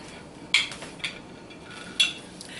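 Serving spoon clinks twice against a plate as ranch potatoes with melted cheese are dished out, close and fairly quiet, with soft scraping between the sharp taps.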